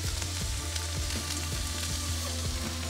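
Seasoned onions fry on a Blackstone griddle with a loud, dense, continuous sizzle over a low steady hum and a few faint scraping ticks, with no voices.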